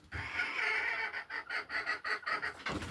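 Silkie and sebright chicks hatching under a broody Duckwing hen give a run of soft, rapid peeps close by, repeating in short pulses.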